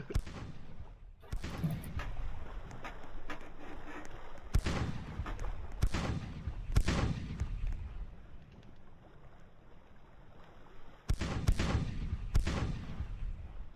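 Cannon fire from ships in the Tradelands naval video game, several loud booming blasts spread across the scene, with sharp reports near the start, middle and a pair toward the end over a steady wind-and-water bed.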